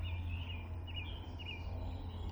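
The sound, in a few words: birds calling outdoors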